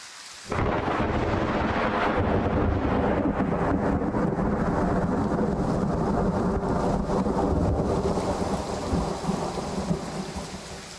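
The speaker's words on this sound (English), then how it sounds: "I imagine thunder is going to be loud though." A thunderstorm rolls through the hunting game Way of the Hunter, with steady heavy rain and a deep rumble of thunder starting abruptly and holding loud and dense throughout.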